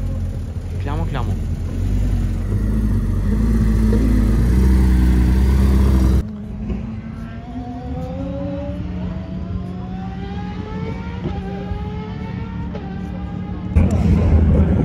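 An Aston Martin arrives beside a yellow Ferrari Enzo at a secret supercar meet: a deep engine rumble gives way to repeated rising revs, with people talking over the engines.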